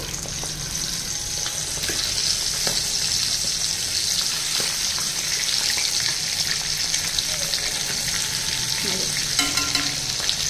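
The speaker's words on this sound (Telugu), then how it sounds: "ఇదిగోండి ఒక వైపు వేగిన తర్వాత రెండో వైపుకి టర్న్ చేసుకోవాలండి." Chicken pieces frying in hot oil for a chicken fry piece biryani, a loud, steady crackling sizzle that runs throughout with occasional utensil clinks, no speech.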